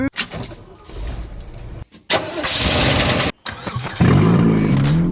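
The 7.3L diesel engine of a 1993 Ford E350/E450 box truck cranks, then catches and settles into a loud, rough running rumble. There are brief cutoffs between attempts, and it is close and dominant throughout.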